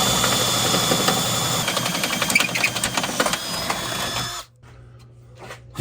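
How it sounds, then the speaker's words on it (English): A power drill with a small bit, drilling a hood pin hole, whines steadily at high pitch for about four seconds, then stops abruptly, leaving a quiet pause and a faint clatter at the end. "Once you find a good place, go ahead and start drilling."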